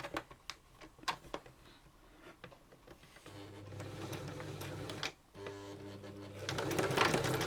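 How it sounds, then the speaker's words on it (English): Sewing machine running a straight stitch along a ruffle, starting with scattered clicks and taps, then a steady whirring hum with a brief pause and a faster final run, close and quiet. "Now I'm just going to change it to straight stitch."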